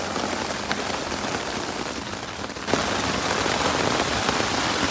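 Heavy downpour drumming steadily on a tent during a nighttime thunderstorm at a motorcycle campsite, a dense, close, continuous hiss that grows louder about halfway through.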